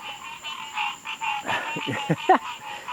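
A chorus of frogs croaks loudly outdoors at night, many overlapping calls in quick, irregular bursts that rise and fall close by, with no talking.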